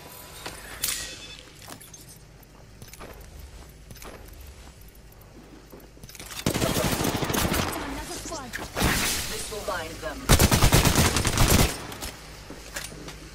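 Video game gunfire during a ranked match, bursts of rapid automatic shots and scattered single cracks, loudest in two dense volleys, with a voice talking faintly in between.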